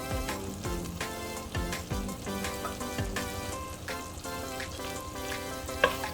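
Salt-and-peppered shrimp sizzle steadily in a hot pan while being stirred, giving a constant crackling fry with a faint utensil clink near the end.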